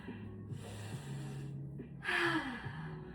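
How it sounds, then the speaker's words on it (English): A deep breath taken during a yoga forward fold: a soft, drawn-out airy breath, then a louder, fuller rush of air near the end, close and quiet with no talking. "Nice deep breath."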